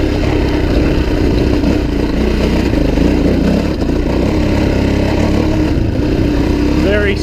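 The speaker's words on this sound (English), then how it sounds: "Bike climbs really good, just puts the power down very effectively." A Suzuki DRZ400e motorcycle engine pulling hard up a climb, a loud continuous close drone under wind noise with a rider's voice over it.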